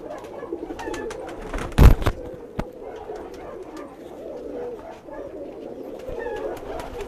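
A blue Indian pigeon coos softly at a rooftop loft, low murmuring calls under a sharp flutter or knock of wings, with quiet background chatter of other birds.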